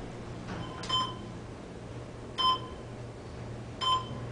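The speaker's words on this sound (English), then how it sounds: "You can hear the beeps as you pass each floor." Three short electronic beeps from a Schindler traction elevator in a downtown Raleigh hotel, one per floor passed, sound about one and a half seconds apart over a low steady hum, each a bright chirp.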